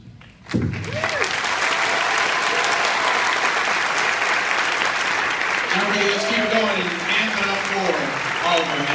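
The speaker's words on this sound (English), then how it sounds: "Lead us in a round of applause for our volunteers." Sustained applause from a comic convention panel audience starts abruptly and continues steadily, with a few voices and cheers rising over the clapping near the end.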